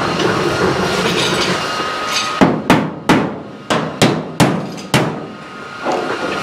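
A run of sharp metallic hammer blows on the steel body of a 1968 Chevrolet Camaro, about eight strikes in an uneven rhythm, loud and close over a steady background hum.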